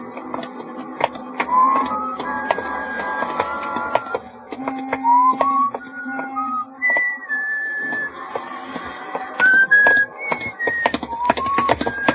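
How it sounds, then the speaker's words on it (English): A man whistles a wandering tune while walking along a street in a radio drama, the clear melodic notes close and alone over sharp rhythmic footstep taps. "Just sort of whistling to myself and walking along the street."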